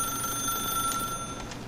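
A telephone rings in the video game The Stanley Parable, a steady electronic ring tone held across the whole moment over a low ambient hum, clear and fairly close with no talk.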